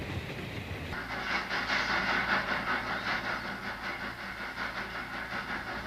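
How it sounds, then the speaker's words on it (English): A Southern Pacific cab-forward steam locomotive leads a westbound train toward Roseville, a rolling rumble with rhythmic rail clatter and hiss that swells loud as it passes. "lucky to catch a meet with a cab forward leading a westbound train to Roseville"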